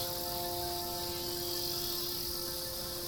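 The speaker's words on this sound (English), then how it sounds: "cicadas." Cicadas drone in a steady, unbroken chorus, high and continuous with faint tonal whines beneath, no voices.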